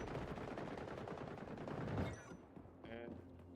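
ACR rifle with a barrel attachment that lowers its rate of fire in a video game, sustained automatic bursts for about two seconds, then fading to scattered distant shots with a voice talking underneath.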